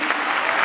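Audience applauding in a large hall at an Ugadi celebration, a dense burst of many hands clapping, loud and close, with some crowd noise mixed in.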